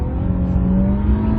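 A 2016 Infiniti Q50S sedan accelerates hard under the gas pedal, its engine a loud, steady, close drone with a slowly rising pitch.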